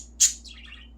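A pet budgie parakeet gives one sharp, loud chirp, then a softer twittering trill fades out, close by over a low steady hum.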